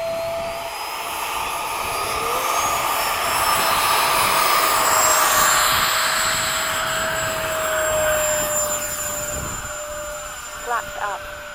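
Jet engines in the game roar loudly and steadily, swelling and easing, with a MiG-21 chasing F-15s, and a few short clicks near the end.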